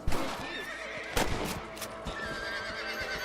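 A horse in Red Dead Redemption whinnies loudly as it rears, amid game effects, with hooves clopping and a sharp bang partway through.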